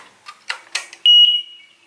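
A single loud, high smoke detector test beep sounds after a few soft clicks and handling noises during installation in a barn, then rings out and fades.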